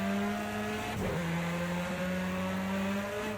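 An Audi S1 EKS RX rallycross car in Project CARS 2 at Bathurst holds a steady high engine drone, a brief dip as a gear shifts, then the note settles and climbs again, loud and close.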